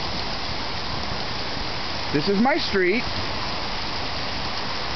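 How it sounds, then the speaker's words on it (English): Heavy rain pours down on a residential street in a steady, dense roar, with someone briefly speaking close by partway through. "And it's raining to beat hell."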